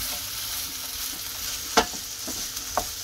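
Potatoes fry in a pan while being stirred for an Afghan breakfast, giving a steady, close sizzle broken by a few sharp scrapes and clicks from the utensil.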